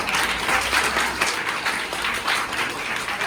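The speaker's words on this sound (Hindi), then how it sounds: "आपके लिए जोरदार तालियां" Loud, dense applause from students at a thanks party in a government high school, steady clapping filling the whole stretch without a break.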